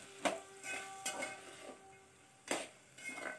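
Moong khichdi with salt and turmeric stirred in a pan produces a few distinct spoon strikes against the metal, separated by soft scraping and a faint sizzle, close and clear, with no voices.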